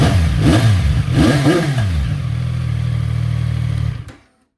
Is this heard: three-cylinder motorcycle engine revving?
yes